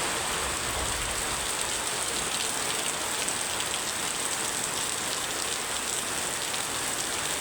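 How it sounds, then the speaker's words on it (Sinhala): Evening rain falls steadily in Anuradhapura, Sri Lanka, spattering evenly on nearby surfaces. It makes a dense, continuous hiss with no voices. "අද අනුරාධපුරයට නම් වහිනවා."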